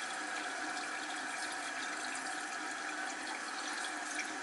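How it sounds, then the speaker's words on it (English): Bathroom sink tap running steadily down a drain that had been backing up, a continuous close hiss of flowing water with no pauses and no voices. "Let it run for a while, give it a good flusheroo."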